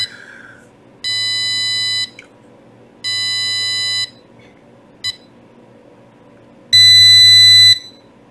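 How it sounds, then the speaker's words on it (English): An electronic buzzer sounds a steady 2000 hertz tone in three loud, flat one-second beeps at an even pace, with a brief blip between the second and third. "let's generate like some other tone, like maybe 2000 Hertz."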